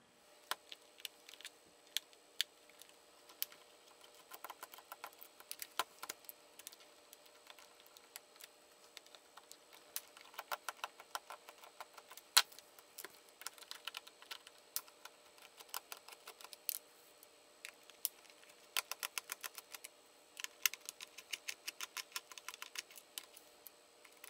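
Small Phillips head screws being turned out of an N64 controller, a quiet run of fine clicks and ticks in irregular bursts, close and faint, with no talking.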